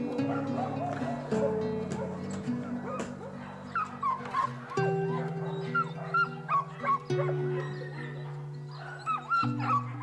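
Stray dogs in Romania yip, whimper and bark in short repeated bursts, several animals close together, over a sustained musical backing.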